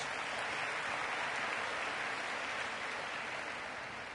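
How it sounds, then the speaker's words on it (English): Conference audience applauding in a large hall after an introduction, a steady dense wash of clapping that holds for the whole stretch and tapers slightly at the end, with no talk over it. "can we give a huge round of applause to both of them, please?"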